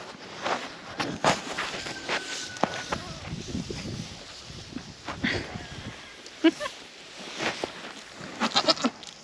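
Several goats bleat at close range amid shuffling hooves and rustling, with a person talking intermittently over the animals.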